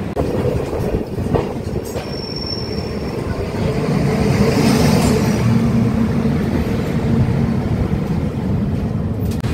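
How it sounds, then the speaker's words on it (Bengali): Humsafar Express train rolling out of New Jalpaiguri station, a steady loud rumble of coaches and wheels with faint squeal, continuous and close throughout. "আমাদের ট্রেন ছেড়ে দিয়েছে নিউ জলপাইগুড়ি স্টেশন।"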